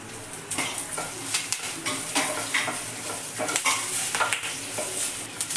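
Curry leaves and drumstick leaves frying in a pan with a continuous crackling sizzle, broken by irregular spatula scrapes and light clinks, close and moderately loud.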